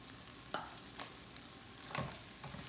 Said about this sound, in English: And then we're gonna just stir that in there really good.